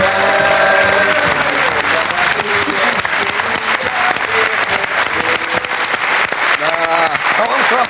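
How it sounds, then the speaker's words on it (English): A studio audience at a mid-1990s television football comedy show claps loudly and steadily throughout, a dense wash of hands with a voice speaking over it at times. "What are you clapping for?"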